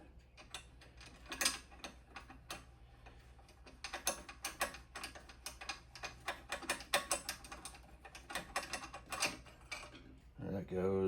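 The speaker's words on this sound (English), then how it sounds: "let's try and strip the arms off of this thing." Arms being removed from a Delta scroll saw during a repair teardown produce faint, irregular metallic clicks, ratcheting taps and clunks from close by, scattered throughout with brief pauses.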